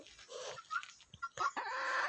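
A native country hen clucks in short bursts followed by a longer drawn-out call, close and fairly loud with quiet gaps between, no talk over it.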